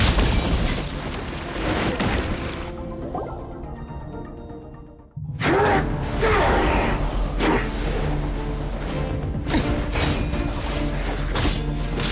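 Loud booming blasts in Genshin Impact, with a dense roaring burst of explosions, a short near-silent gap, then another heavy, sustained run of explosive rumble and crashes.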